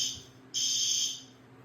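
A college dorm smoke alarm sounds a loud, shrill continuous tone that cuts in abruptly and holds close to the microphone over a quiet room hum.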